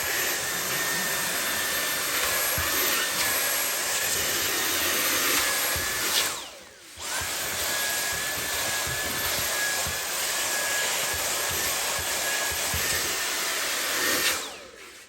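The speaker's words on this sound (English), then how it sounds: "So this is where the crevice tool comes in handy on this Dyson." Dyson V8 cordless handheld vacuum with crevice tool whining loudly and steadily up close, its high motor tone dipping twice as the nozzle is blocked or moved, with no talk.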